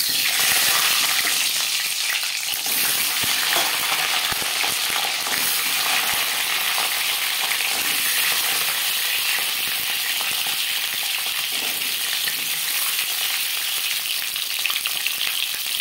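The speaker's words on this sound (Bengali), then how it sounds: "3 চামচ রিফাইন্ড অয়েল গরম করে নিয়েছি। এবার দিয়ে দেব ডিম।" Eggs frying in three spoonfuls of hot refined oil, a steady loud bright sizzle and crackle that holds evenly for about sixteen seconds with no voices.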